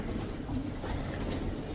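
Soft cooing of pigeons in a loft housing young birds from a first and second batch, low murmuring calls that continue steadily at moderate distance.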